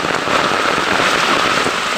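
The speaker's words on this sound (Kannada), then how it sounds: "ಮಳೆ ಜೋರು ಬಂದ್ಬಿಡ್ತು ಸಖತ್ ಮಳೆ ಬರ್ತಿದೆ" Heavy rain pours outdoors in a windy storm, a dense, loud, continuous hiss close by with no break.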